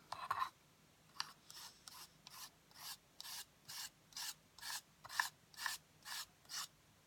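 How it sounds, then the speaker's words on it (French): A spatula rubs across 3D paint in about a dozen evenly spaced rasping strokes, quiet and close, each a short scrape with brief pauses between and no talking. "quand je mets de la peinture 3D, quand je frotte avec la spatule"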